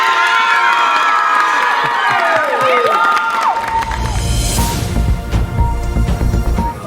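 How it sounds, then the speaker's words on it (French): An audience cheers with loud whoops and shouts that give way to a dense burst of clapping and crowd noise, close and energetic. "Un applaudissement, s'il vous plaît!"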